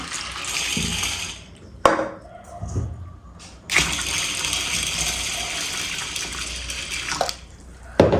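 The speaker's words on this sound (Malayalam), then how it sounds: "നിറയെ വെള്ളം ഒഴിച്ചു കൊടുക്കണം" Water pours and splashes into a container in bursts, with short pauses between pours and a steady rushing flow in the middle.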